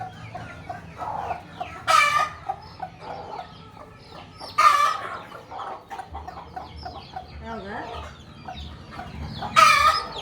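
A broody hen and her newly hatched chicks cluck and murmur close by, with a few sharp louder calls standing out at intervals and small chick peeps mixed in.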